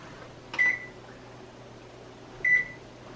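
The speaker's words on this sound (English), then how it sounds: "we're going to preheat our oven to 350" Two short electronic beeps, spaced about two seconds apart, from a kitchen oven being set to preheat to 350 degrees, clear and alone over a low steady hum.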